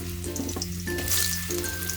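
Potato pieces hitting very hot mustard oil in a pan, a steady close sizzle and hiss that swells as the pieces go in and keeps frying without a pause, with no talk over it.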